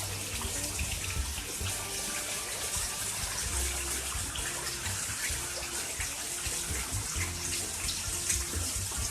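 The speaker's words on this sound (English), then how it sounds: "It's flooding my garage." Hurricane floodwater about an inch deep flows steadily into a home garage, a continuous rushing, gushing wash with low rumbling underneath and no voices.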